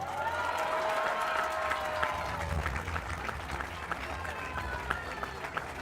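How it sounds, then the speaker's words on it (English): Audience applause at a Sri Lanka rowing nationals award ceremony as Visakha Vidyalaya is named intermediate category winner, steady sustained clapping from a crowd with a tonal sound fading early and some voices underneath. "Big round of applause, ladies and gentlemen, as Visakha Vidyalaya walks away with the intermediate category"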